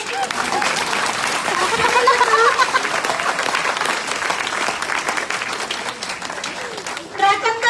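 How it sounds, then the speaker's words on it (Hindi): An audience at a business motivational talk breaks into sustained, dense applause, steady and loud for the whole stretch, with a voice speaking over it. "अभी ताली क्यों नहीं बजता आदमी लोग से?"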